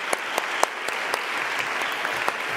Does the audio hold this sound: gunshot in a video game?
no